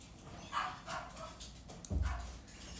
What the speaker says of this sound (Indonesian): Soalnya Loki menggonggong.